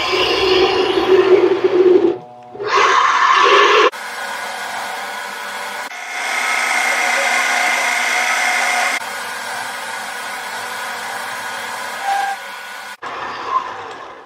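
Mini lathe motor turning a custom adapter, a steady hum that shifts pitch and level in several distinct stretches, with brief drops as the cut loads and stalls the motor.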